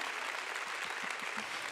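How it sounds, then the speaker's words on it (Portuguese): A church congregation applauds in a faint, distant, steady wash of clapping, with a few low murmurs underneath. "Vamos aplaudir, eu sempre quis, vale a pena uns aplausos."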